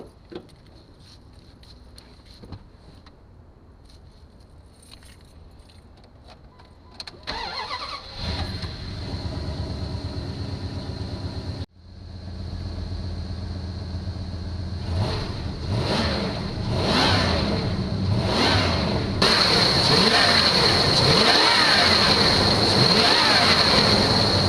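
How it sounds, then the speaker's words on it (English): A car engine cranks, catches and starts, then settles into a running idle that builds into louder revs, heard up close and steady for the last half with little talk. "let's crank her up and see how she does"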